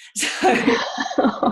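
A single loud, close sneeze with a sharp onset, followed by a few short voiced fragments as someone speaks briefly.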